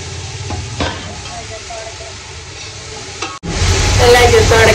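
Noodles and chutney frying in hot oil, a loud continuous sizzle with stirring scrapes and a brief sharp drop before the hiss swells louder again, with a voice faintly present.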